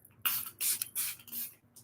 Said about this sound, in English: The spray comes out so strong, so nice.